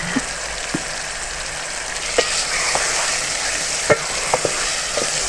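Half a kilo of chicken fries with garlic-ginger paste in a pan, a steady sizzle broken by a handful of sharp spoon scrapes and clinks as it is stirred, close and fairly loud, with no talking.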